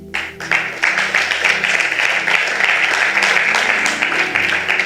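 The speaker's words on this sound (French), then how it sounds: "Acclame très fort." A church congregation breaks into loud, sustained applause and cheering that starts abruptly and holds steady throughout, a dense crowd wash with clapping close and full.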